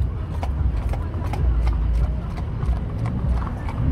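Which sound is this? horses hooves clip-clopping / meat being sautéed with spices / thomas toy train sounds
horses hooves clip-clopping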